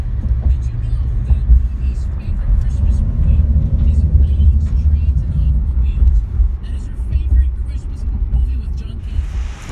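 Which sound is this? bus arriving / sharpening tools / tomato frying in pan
bus arriving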